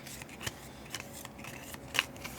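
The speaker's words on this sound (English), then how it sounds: "Shuffling up my deck" Cards from a board game deck being shuffled, a few soft scattered riffling clicks and a sharper snap near the end, close and quiet with no talk.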